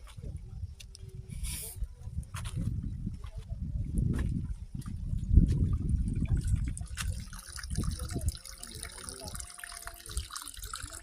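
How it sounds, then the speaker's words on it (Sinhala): A stream of water keeps rushing after a landslide that brought down huge boulders, with a steady close gurgling and splashing flow throughout and a voice briefly audible over it. "වතුර පාර හිඳිලා නැහැ මේ විදිහට බලන්න පුළුවන්."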